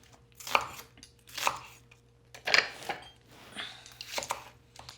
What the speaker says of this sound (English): So just roughly chop about 3 onions